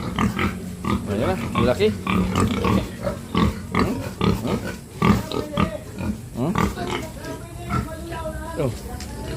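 Pigs oink and grunt repeatedly on a farm, close and fairly loud, while people talk over them.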